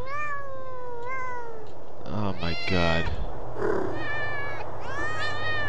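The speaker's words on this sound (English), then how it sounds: "Ah, fucking hate cats, man." Several cats in the game Thirty Flights of Loving meow loudly and repeatedly, with rising and falling wails that overlap near the middle. Someone speaks briefly partway through.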